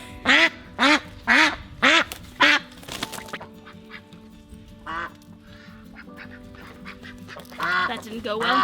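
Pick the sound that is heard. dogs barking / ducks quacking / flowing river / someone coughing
ducks quacking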